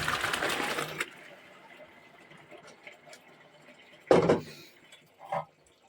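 A brief splashy rush of liquid as boiled mushrooms are drained, a short burst of water hitting a colander, with faint kitchen clatter before and after.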